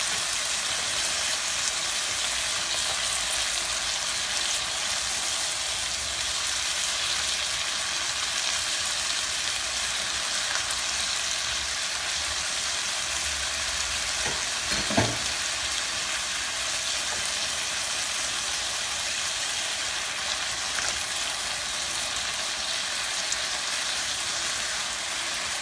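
Chopped ham and capers frying in a skillet for a frittata: a steady, moderate sizzle like light rain, continuous and close, with one brief clatter midway and no voices.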